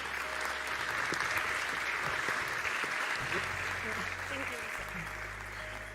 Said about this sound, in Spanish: Un fuerte aplauso también para recibirla.